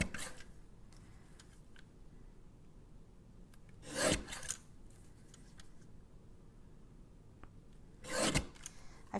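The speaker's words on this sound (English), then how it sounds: "I find that the guillotine trimmer is just a sharper cut, and it's crisp when you cut it." A mini guillotine paper trimmer slices through photos, giving two crisp, close cutting strokes about four seconds apart with quiet pauses around them.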